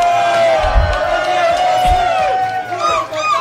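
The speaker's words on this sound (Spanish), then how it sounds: "La gente aplaudiéndole, loco," A crowd cheers and claps in a loud, continuous roar with shouts and whoops mixed in, several strong swells and a steady tonal edge running through the din.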